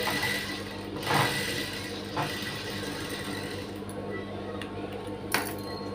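A sewing machine stitches a Prince-cut blouse with a shorter-than-normal stitch length, giving a steady, fairly quiet mechanical whir with a few brief clicks and knocks, alone and close by.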